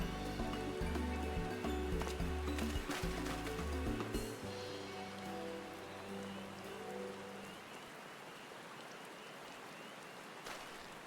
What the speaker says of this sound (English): Raining so much.